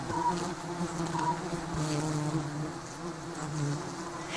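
Many bees buzz continuously and close by, a dense, steady hum that swells and fades slightly.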